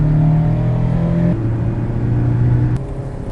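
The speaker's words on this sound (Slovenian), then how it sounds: "Tale Mazda se v bistvu imenuje Mazda MX-5 RF." A Mazda MX-5 RF engine holds steady revs, with a loud, close droning hum that drops to a lower pitch partway through and shifts again near the end, with no voices.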